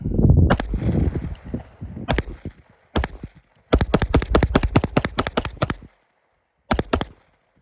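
An OA Defense 2311 Compact Pro pistol fires at steel targets outdoors: sharp loud reports, first single shots spaced apart, then a fast string of about a dozen rounds, a pause, and a final pair.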